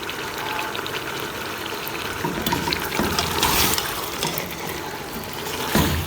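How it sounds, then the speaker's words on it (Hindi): Water poured into a pot of tinda gosht, beef with round gourd, a continuous splashing, trickling pour heard close up for several seconds with slight surges in intensity. "मैं बना रही हूँ शोरबे वाले, तो मैं इसमें डालूँगी पानी।"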